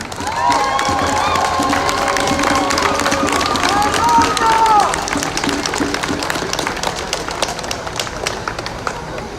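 Crowd at an outdoor activist rally in Portland clapping and cheering, sustained applause with whoops and shouts layered on top early, settling into steady scattered clapping.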